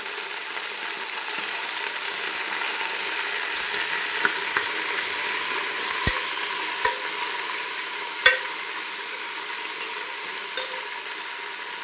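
Ingredients for a chicken curry sauté in a pan with a constant soft sizzle and hiss, broken by a few faint stirring clicks and scrapes, with no voices.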